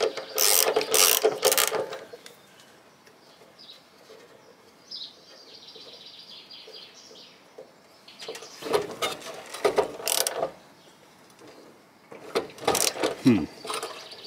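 A ratchet wrench loosening a wheel nut on an AV88, bursts of rapid close clicking in three separate spells, with quieter mechanical handling and muffled movement between them.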